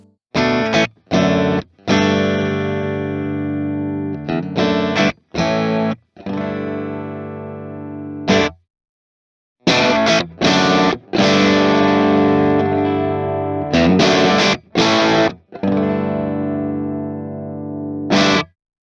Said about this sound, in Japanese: いわゆるアンプライク系のオーバードライブとしてかなりパワフルな1台になってます